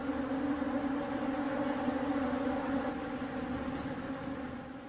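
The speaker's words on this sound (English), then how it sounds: "sometimes they attract thirsty bees drawn to this unlikely source of moisture." Thirsty bees swarm around wet towels, making a steady, droning buzz with no breaks. It sounds close and fairly quiet, and nobody talks.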